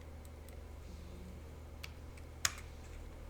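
A few quiet key presses on a computer keyboard while working in CAD drawing software, faint clicks with one sharper tap near the end, over a low background hum.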